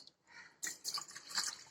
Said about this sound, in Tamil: தண்ணி ஊற்றி 2 தடவை வாஷ் பண்ணிக்கலாம்.